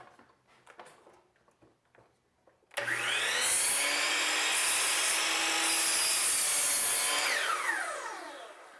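A power saw cuts through a wooden casing cap, a loud, sustained whining buzz that starts abruptly after a quiet lead-in, holds steady through the cut, then winds down as the blade slows.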